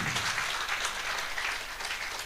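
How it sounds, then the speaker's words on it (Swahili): Applause from a church congregation at a synagogue-style worship service, honouring a young man; a dense, steady wash of many hands clapping fills the space at moderate loudness with no pauses. "Simpigie kijana yangu makofi"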